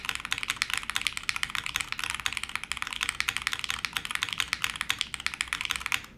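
Rapid mechanical keyboard typing on a hot-swap board with a standard PCB, NK Olivia Silk switches, GMK keycaps and PE film, giving a steady stream of close, crisp clacks for about six seconds with no talking.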